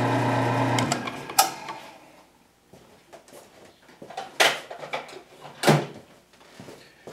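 A milling cutter slotting metal for flange mount bearings, the cutter getting dull: a steady machining hum fades out, followed by intermittent sharp bursts of cutting noise.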